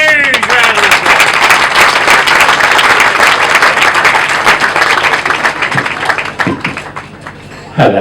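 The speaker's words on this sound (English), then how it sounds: "Give him a huge round of applause" Loud, sustained applause from a large crowd at a polo match, dense clapping filling the space and tapering off near the end.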